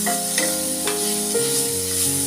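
Beetroot paste frying in a pan with curry leaves, a steady close sizzle with a few soft stirring scrapes, no voices.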